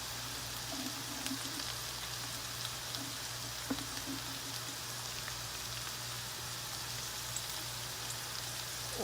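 Flour- and cornmeal-coated pieces fry and brown in hot oil in a pan, giving a steady, close sizzle with fine crackling and a few brief pops, no talking.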